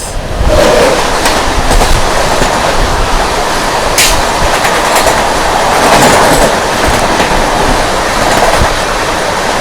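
Grand Trunk Express bound for MGR Chennai Central rushes past on the opposite track, heard from inside a speeding train: loud continuous rumble with rhythmic clickety-clack of wheels over rail joints and brief squeals, no talking.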